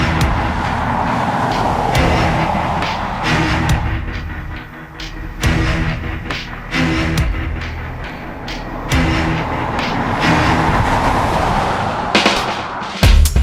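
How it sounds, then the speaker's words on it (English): Audi A8 4.2 TDI quattro diesel drives along, a steady engine and road roar with periodic thumps and surges, close and loud throughout. "The big diesel motor provides plenty of power."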